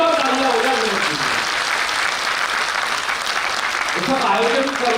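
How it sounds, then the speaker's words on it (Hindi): Audience clapping fills a hall at a customer meet in Vrindavan, a steady dense wash of applause throughout with a voice speaking over it near the start and end. "एक बार जोरदार तालियां हो जाए विनोद जी।"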